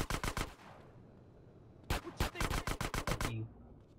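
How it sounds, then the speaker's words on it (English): Rapid bursts of video game gunfire, an automatic volley followed by a pause and then a longer string of quick shots, loud and close. "Now I'll help him because I hear"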